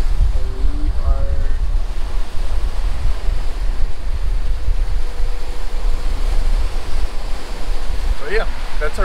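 Steady wind buffeting the microphone with rushing waves around a sailing catamaran under way in about 17 knots of wind, a continuous loud broadband roar with brief splashes near the end.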